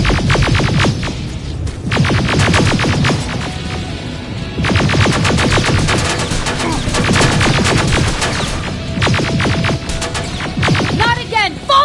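Rapid bursts of automatic gunfire in the video game Terminator Resistance, loud and dense, with shouted voices and a low throbbing underneath throughout.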